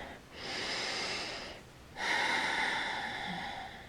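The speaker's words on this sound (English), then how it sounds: "So take a breath before I begin." Two slow, audible breaths, a long airy inhale and then an exhale, close and soft, taken quietly before a tarot reading.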